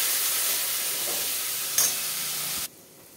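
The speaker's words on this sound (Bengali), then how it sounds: "আমার মশলা ভাজা হয়ে গেছে" Ground cumin, coriander and red chilli powder fry in oil with a splash of water for a chicken kosha, giving a loud, steady hiss that cuts off abruptly near the end.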